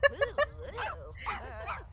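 A tiny dog gives three quick, sharp high yaps close by, followed by voices talking.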